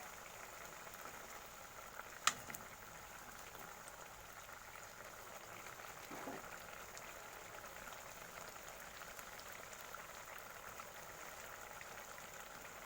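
Prawn malai curry gravy simmers in a pan, a faint steady bubbling hiss with soft scattered pops, quiet and continuous throughout with no talking.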